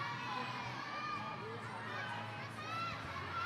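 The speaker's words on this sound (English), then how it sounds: "the cheering out here is really loud, spurring our climbers on" Spectators at a youth bouldering competition finals cheer and shout continuously, with children's voices in the mix. The cheering sounds fairly distant and diffuse, like an indoor climbing hall.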